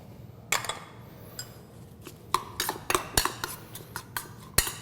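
A utensil clinks against a bowl while mixing chopped onion, fresh cilantro, minced oregano, lime juice, black pepper and salt, giving a run of light, irregular taps and scrapes at close range.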